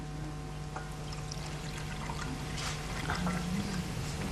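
RO water being poured, a steady liquid stream running continuously with a low hum behind it, fairly quiet and close, no talking.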